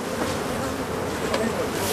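Honeybees buzz densely at a hive being smoked in West Cork, a continuous close swarm hum that stays even and loud.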